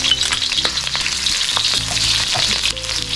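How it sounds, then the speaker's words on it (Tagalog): Onions sauté in a pan with a loud, continuous frying sizzle, punctuated by scattered clinks and scrapes of stirring, close up and without talk. "Magigisa muna tayo ng sibuyas."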